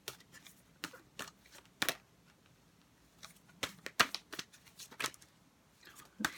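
Tarot cards being shuffled by hand, crisp papery riffles and slaps arriving in short irregular bursts with quiet gaps, close and fairly soft.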